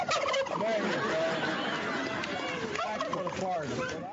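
Several turkeys gobble loudly and continuously at the White House Thanksgiving turkey pardon, their rattling calls overlapping amid a busy crowd murmur.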